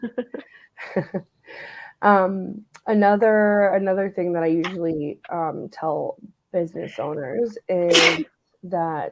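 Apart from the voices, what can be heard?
sneeze from perfume allergies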